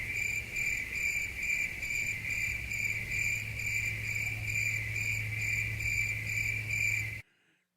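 Crickets chirp in a loud, steady high trill with a rapid pulsing rhythm over a low hum, and it cuts off abruptly near the end.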